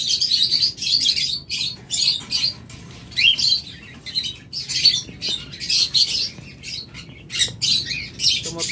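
A pair of albino heavy pied cockatiels, male and female, chirp and squawk close by in rapid, uneven bursts of shrill calls with short pauses between, and no one speaks over them.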